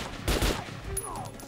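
Gunshots fired with golden bullets in the post-apocalyptic shooter Metro: Last Light, two sharp bursts close together near the start, followed by a softer tail of game ambience.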